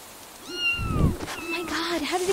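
Cat meowing in the fantasy adventure game Grim Legends: The Abyss, a few drawn-out, gliding mews close by, with a voice speaking around them.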